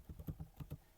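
Quiet typing on a computer keyboard during a Python programming lesson, about six quick, light keystrokes in a short run.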